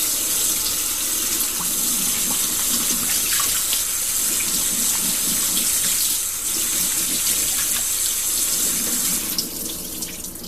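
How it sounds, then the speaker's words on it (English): Cold tap water running over blueberries being rinsed in a sink, a steady close stream with faint shifting splashes as the berries are shaken, ending abruptly. "So for rinse, just cold water, shake them around, give them a good soaking."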